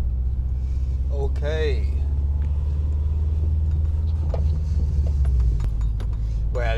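Subaru Forester XT fitted with a COBB short shifter, its engine giving a steady low rumble from inside the cabin while someone speaks briefly over it.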